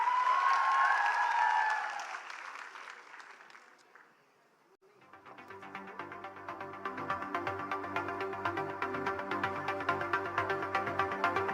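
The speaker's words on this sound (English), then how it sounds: "A round of applause please for Tiska Chopra" Crowd applause at a live public-speaking finale event in Delhi NCR, heard first under an amplified voice that fades to near silence, then returning as steady, fairly distant clapping from many hands with music underneath.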